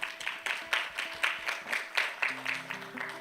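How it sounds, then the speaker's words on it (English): An audience at a parent orientation gathering claps steadily in a fairly even rhythm, moderately distant, while a faint sustained musical tone enters near the end. "Let's give a big round of applause"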